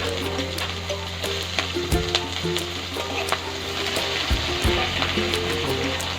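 Onions and green and dried chilies fry in hot oil in a wok, giving a steady, close, crackling sizzle with a few scraping stirs and no voices.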